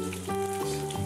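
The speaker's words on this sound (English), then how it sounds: "they're frying it up now" Chicken pieces frying in a large amount of oil, giving a steady close sizzle with crackling throughout, with a faint tonal hum running under it.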